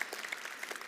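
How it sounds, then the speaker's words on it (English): Applause from an audience at a lunch-and-learn business seminar, a short burst of steady clapping at moderate level with no voices on top. "give her a round of applause"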